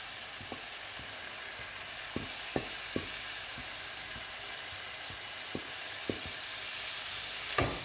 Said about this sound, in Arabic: وبعد كده بنحط الفراخ بتاعتنا، ننزل بيها.